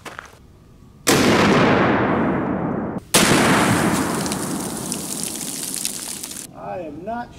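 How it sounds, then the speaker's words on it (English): A Serbu RN50 .50 BMG rifle fires a blue-tip incendiary round outdoors. Two huge, close booms land about two seconds apart, each with a long rolling echo that trails off into quiet. "we have the Serbu RN50 set up, and we're going to start out with a blue tip."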